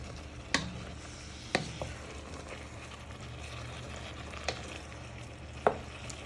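Onions, mushrooms and garlic frying in a pan for beef stroganoff, stirred carefully around the pan: a soft, low sizzle broken by a few sharp utensil knocks against the pan, with no talk.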